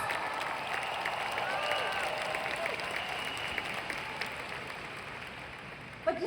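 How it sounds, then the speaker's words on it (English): Steady applause from a crowd at a Riway training course gathering, continuous clapping with faint voices mixed in, holding at an even level throughout. "Can we all give ourselves a round of applause today to all the successful people in the house?"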